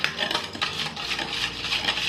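Powdered sugar is stirred in a bowl for a Christmas plum cake, a spoon scraping and clinking against the sides in quick uneven strokes, close and clear with no talking.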